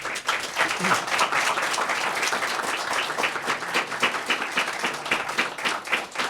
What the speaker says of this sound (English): I would like to invite a massive round of applause